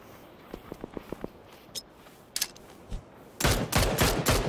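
Gunfire in a shooter video game: a quick string of faint single shots, a few scattered louder cracks, then a dense, loud burst of rapid fire at the end.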